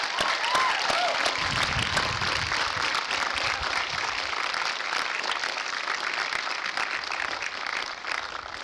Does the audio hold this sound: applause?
yes